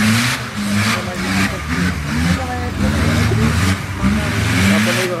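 Car engine revving repeatedly in short throaty bursts, loud and close, with people talking over it throughout.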